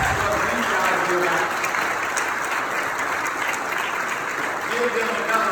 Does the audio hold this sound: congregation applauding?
yes